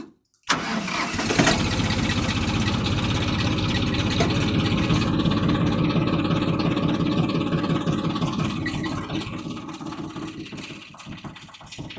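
A YTO 244SX mini tractor engine cranks and fires after a brief silence, then settles into a loud, steady diesel idle running close by for the rest of the clip, easing slightly toward the end.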